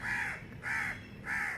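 Crows give three loud, harsh caws close by in an even rhythm, with no voices.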